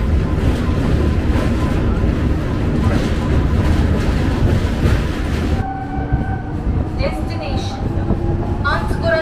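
A Howrah–Panskura local train on the South Eastern line rumbles and clatters loudly, then the roar drops away midway, leaving quieter rail noise with high tonal squeals and a horn-like whine.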